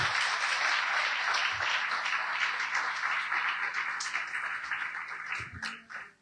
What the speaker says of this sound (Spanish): Puede darle un aplauso a Él.